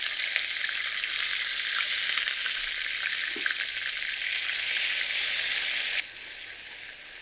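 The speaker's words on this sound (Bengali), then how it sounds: "মশলাটা আমি খুব ভালো করে কষিয়ে নিয়েছি।" Ginger garlic paste and spices frying in a pan with a little water, a steady close sizzle running throughout with occasional stirring, easing slightly near the end.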